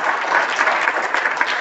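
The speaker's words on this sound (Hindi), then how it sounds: "जोरदार तालियां सर के लिए" Loud, steady clapping from a seminar audience, a continuous dense burst of applause heard alone without talk.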